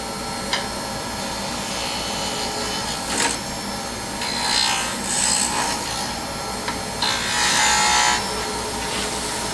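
A pen blank spinning on a wood lathe is shaped with a number 2 radius carbide tool, giving a steady close scraping and hissing cut that swells and fades over several passes, with no talking.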